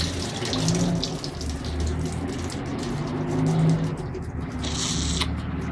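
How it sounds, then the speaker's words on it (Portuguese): A washing machine fills with water, giving a steady rushing, hissing flow that swells slightly and runs on without pause, close and fairly loud with no voices. "colocar, a máquina está enchendo, colocar um pouquinho de sabão"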